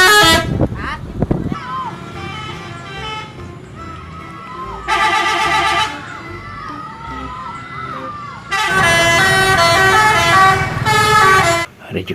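A Budiman bus sounds its horn in loud, long musical blasts, one brief and one extended, over traffic noise and a murmuring crowd close by.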